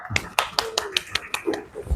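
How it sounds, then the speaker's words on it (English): A few people in a class give a participant a round of applause: sparse, evenly spaced claps, fairly quiet, with faint voices between them. "Give him a round of applause, please."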